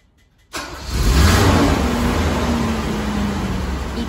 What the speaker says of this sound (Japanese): パーツクリーナー補助なしでもエンジンがかかるのかテストします